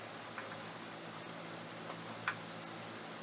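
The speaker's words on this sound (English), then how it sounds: "we're going to let that sit there and saute, uncovered now" Ground beef sautéing uncovered in a pan with minced onion and garlic, a soft steady sizzle and crackle with a couple of faint pops and a brief scrape, quiet and close.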